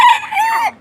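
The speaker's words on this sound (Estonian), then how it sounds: "See kukeke on nii nunnu ikka." A rooster crows once, close and loud, in a single drawn-out call that rises and then falls away at a farmyard nest area.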